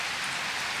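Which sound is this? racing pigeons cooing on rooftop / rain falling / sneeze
rain falling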